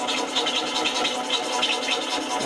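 A lathe cut grabbing on a workpiece at slow feed, giving a steady close scraping, chattering hiss with faint rhythmic pulses throughout.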